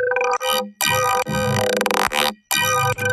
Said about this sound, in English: I was able to get this really cool ringy metallic-y sound.